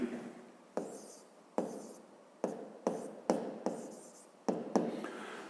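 Chalk or marker writing on a classroom board during a physics lesson, a series of about eight distinct close strokes with sharp attacks and short scraping tails, quiet room, no talk.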